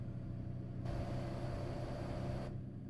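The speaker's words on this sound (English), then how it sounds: "I forgot it gets so loud when you stick your head out the truck." Loud, steady wind roar and engine rumble from a truck driven in American Truck Simulator with the driver's head out the window, a dense unbroken drone that swells brighter through the middle of the stretch.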